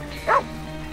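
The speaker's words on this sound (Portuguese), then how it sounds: "O rastro fica mais forte e o cachorro se agita. Começa a correr." In the Red Dead Redemption video game, a dog lets out a single brief bark over a steady low ambient hum.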